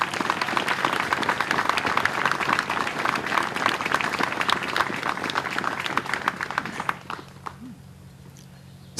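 A crowd at a 5th Marine Regiment battle streamer rededication ceremony applauds Marine veterans with loud, dense clapping that holds for several seconds, then tapers off to a few scattered claps and room quiet.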